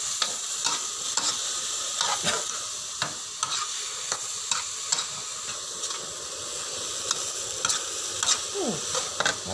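Wild mushrooms being stir-fried in a smoking pan just after liquid is added: a loud, continuous sizzle and steam hiss, broken by repeated sharp scrapes and clacks of a utensil against the pan at an uneven pace.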